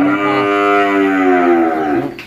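A cow at a cattle farm lets out one long, loud, close moo, steady and drawn out before tapering off, with no voices over it.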